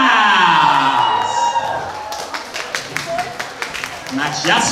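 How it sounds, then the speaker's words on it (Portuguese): Crowd at a K-pop dance contest applauds and cheers with scattered whoops, rising after a musical tail and staying lively and fairly close throughout. "Palmas!"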